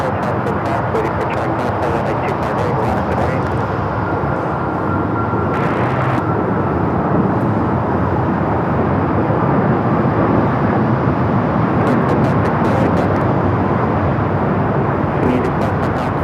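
An Air New Zealand airliner comes in to land at Los Angeles LAX airport, a sustained broadband engine rush holding at a steady level, with voices talking over it at times.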